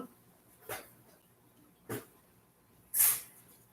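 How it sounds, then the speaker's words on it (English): A dog barks three times, each a short sharp burst about a second apart, heard from a moderate distance against a quiet background with no talking. "you could hear him barking."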